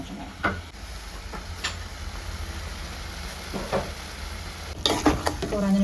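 Prawn thokku masala sautéing in a pan, a low steady sizzle with scattered spatula scrapes and knocks that cluster and grow louder toward the end.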